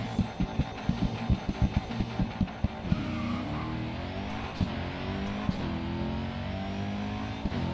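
A Zenvo ST1 in the racing game Grid 2 pulls hard, its engine throbbing through rapid rhythmic pulses, then rising in pitch through the gears with sharp pops at each upshift, loud and continuous.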